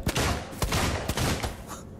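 Rapid gunfire from the survival horror video game Alien Isolation, with several sharp loud bursts spaced through two seconds over a dense rumbling game soundtrack.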